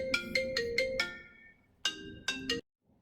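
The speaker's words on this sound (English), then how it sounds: "I had a phone call from the school." A phone rings with an incoming call in a home kitchen, a melodic ringtone of bright repeated chiming notes in two bursts, fairly clear and alone, then stopping abruptly.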